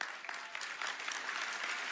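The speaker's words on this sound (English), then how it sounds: "you can clap, it's fine." Audience applause at the National Prolife Summit, a dense, steady burst of many hands clapping at once, filling the short clip from start to finish.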